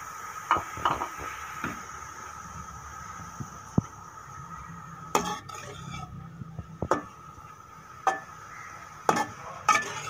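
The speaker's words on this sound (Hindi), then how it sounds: "चम्मच को हिलाते रहना है।" A spoon scrapes and clinks against a pan while grated mooli with radish leaves for paratha filling is stirred over very low heat, giving a steady faint sizzle and irregular metallic taps.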